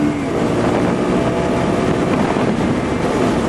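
Steady, loud rush of wind buffeting the microphone over a continuous low engine drone of a Honda XRE 300 motorcycle riding at highway speed.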